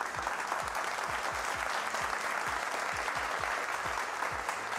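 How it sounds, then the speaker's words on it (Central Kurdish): An audience in a studio claps in a dense, steady round of applause that holds even and fairly loud throughout. "چەپڵەکانتان"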